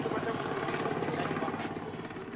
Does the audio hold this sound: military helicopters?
yes